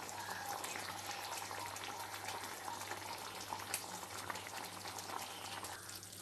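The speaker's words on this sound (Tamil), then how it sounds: "நல்லா கொதி வந்துடுச்சு." Mutton curry in village style simmers at a full boil in a pot, giving a steady, faint bubbling hiss with a low hum beneath it and no break throughout.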